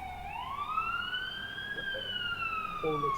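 Police sirens wail in a slow rising and falling sweep, moderately distant and steady, with faint background noise beneath.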